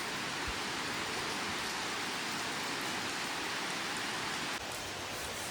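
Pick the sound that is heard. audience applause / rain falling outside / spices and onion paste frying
rain falling outside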